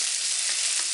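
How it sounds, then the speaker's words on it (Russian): Onions fry with potatoes in a pan while being stirred, giving a loud, dense, continuous hiss of sizzling oil, close up and uninterrupted, with no talking. "Перемешиваю лук."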